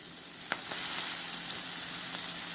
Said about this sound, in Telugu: ఉల్లిపాయ వేగిపోయి ఇప్పుడు ఇందులోని తరిగిన టమాటాలు